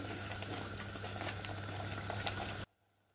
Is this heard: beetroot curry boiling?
yes